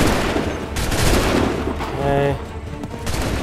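A musket volley erupts in Assassin's Creed 3, several loud overlapping gunshots in quick succession, followed by a further burst of firing, while a voice speaks briefly over the battle noise.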